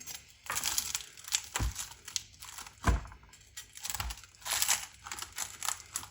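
A knife cuts through a hot, layered crunchy handmade flatbread, giving repeated close crackling and crinkling crunches in uneven bursts, some sharp snaps standing out, with no talking.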